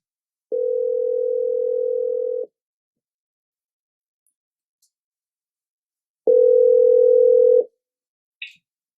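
Two long, steady telephone ringback tones sound during an outgoing call, clean and alone against silence, followed by a brief click.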